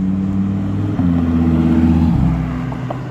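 A Lamborghini Huracan Evo arrives at an outdoor car show, its engine droning steadily loud and close, with two distinct shifts in pitch as it moves past, then easing off toward the end.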